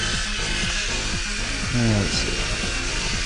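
Small RC toy helicopter hovering close by, a steady high whine of its motor and rotors rising and falling slightly as it is trimmed, with someone speaking briefly over it.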